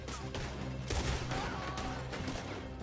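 Gunfire in the video game Red Dead Redemption 2, a rapid cluster of sharp shots cracking over a steady background of game ambience.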